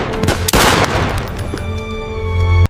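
A point-blank gunshot in a dramatized retelling of Abraham Lincoln's assassination in the presidential box, a sharp loud crack with a booming, reverberant tail, followed moments later by a second abrupt bang and a sustained ringing tone.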